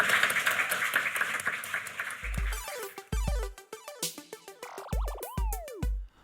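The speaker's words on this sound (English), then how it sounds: "ladies and gentlemen, let's have a round of applause for the one," An audience at a live podcast recording claps for a guest, the scattered applause thinning out after two seconds as musical notes and sliding tones take over.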